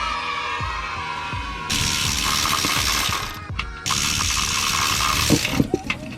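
Ratchet wrench clicking steadily on the starter bolt of a BMW E24 during a manual transmission swap, close and fairly loud, with rapid pawl clicks in bursts separated by short pauses.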